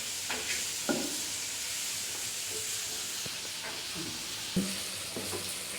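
Chicken frying in a pan for a wedding-style Bengali chicken korma gives a steady, moderate sizzling hiss, broken by a few brief stirring scrapes and clinks at close range.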